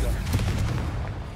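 The Confringo blasting spell going off in the Hogwarts Legacy video game: a sharp burst of loud, close blasts and cracks in quick succession, with a voice shouting over them.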